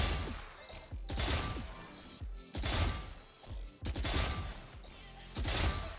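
Phantom rifle fire in VALORANT's skills test on medium, sharp bursts of rapid shots coming in several clusters separated by short pauses, loud and close with crisp impacts.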